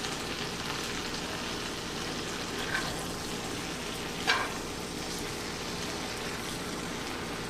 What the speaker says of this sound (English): we're going to give this a stir to get that seasoning all over the other ones